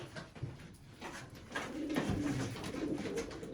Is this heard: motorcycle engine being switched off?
no